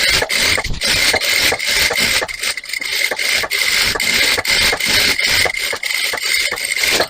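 A sewing machine stitching a quarter-inch seam on a blouse, running in a fast, even mechanical chatter throughout without pause.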